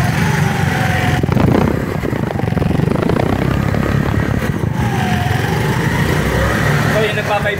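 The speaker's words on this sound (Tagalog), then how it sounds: "pakinggan niyo po yung muffler niya" A 2024 Motoposh Evo 150 V3 motorcycle runs steadily, its exhaust droning loud and close through the muffler with a constant low rumble and a couple of brief revs, the engine note unbroken throughout.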